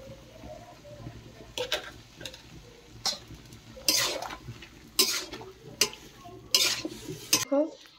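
Metal utensils clink and scrape against a pot of mixed vegetable curry in a village kitchen, with sharp irregular knocks and stirring sounds recorded up close.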